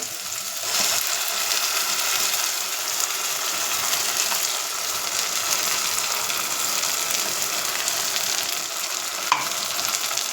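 Ground coconut paste poured into onions sautéing in a pan sets off a loud, steady sizzle and frying hiss, continuous and close, with a faint clink near the end and no voices.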